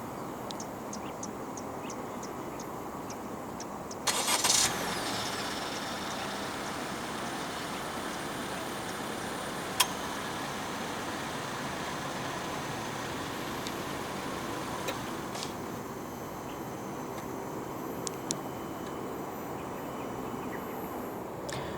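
A 2022 Honda City 1.5 E sedan starts remotely with a brief burst of cranking, then settles into a low, steady engine idle outdoors, with a few faint clicks and birds in the background.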